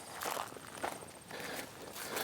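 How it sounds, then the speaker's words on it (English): Footsteps crossing ground at a free campground on the way to the bathroom, a few soft crunching steps in an even rhythm, close but quiet. "right now let's walk over and check out what this bathroom looks like"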